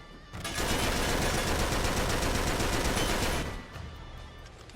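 Mounted turret gun in Uncharted 3 firing a sustained, loud burst of rapid automatic shots for about three seconds, then cutting off into quieter background noise.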